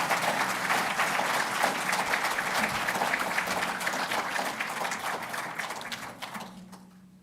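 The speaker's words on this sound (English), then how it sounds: "Please, let's give another round of applause to our keynote speakers." Audience applause at the 15th Annual Dullah Omar Memorial Lecture, a dense, sustained clapping from a large indoor crowd that holds steady, then thins and fades out toward the end.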